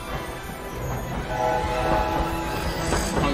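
A train in the Hogwarts Legacy video game rumbles steadily at moderate loudness, with a faint horn-like tone partway through and no talk over it.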